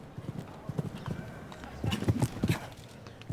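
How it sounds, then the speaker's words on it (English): Horse hooves pounding a show jumping course in a stadium as a young stallion canters round, the rhythmic thuds close and clear, with faint voices in the background. "Olivier Philipparts comes back into the stadium with this young stallion."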